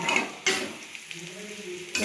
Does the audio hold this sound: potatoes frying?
yes